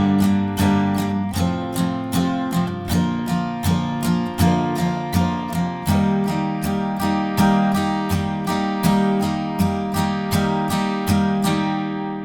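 A song's outro break played on guitar, one down-up strum per chord, producing a steady run of evenly spaced chord strokes with bright ringing harmonics, close and alone, easing off at the end.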